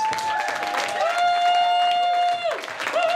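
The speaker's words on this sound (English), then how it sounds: "can I just have a round of applause for everyone, including the final act, everyone who's performed tonight" A cabaret crowd claps and cheers for the night's performers, a dense wash of applause with a bright whistle-like tone held over it and shouts rising above the clapping.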